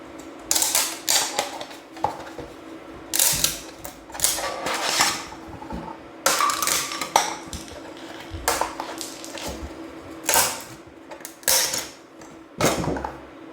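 A 3D printer prints parts for a large 70mm buzzer, producing irregular bursts of mechanical whirring, creaking and clicking as the head moves, separated by short quieter pauses over a low steady hum.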